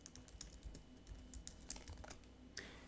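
Keys clatter on a computer keyboard in a quiet room, a quick irregular run of taps and clicks with a slightly louder burst near the end, no voices.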